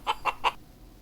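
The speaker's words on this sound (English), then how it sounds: "A chicken makes this sound." A chicken gives three quick, bright clucks in even succession, close and clear, then falls quiet.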